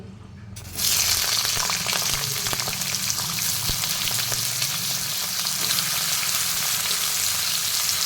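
Mango pieces frying in hot oil with spices in a pan for a Bengali mango khosha dish, a steady, close sizzle that starts after a brief quiet moment and continues throughout, with occasional stirring.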